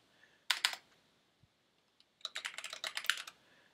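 Keystrokes on a computer keyboard come in two quick bursts of rapid, close clicking separated by a short pause, with no voices.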